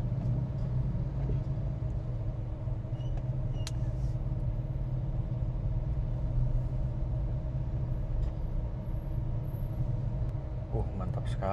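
A car sits idling in a Jakarta traffic jam at a red light, its low engine rumble steady and droning throughout with faint road noise around it.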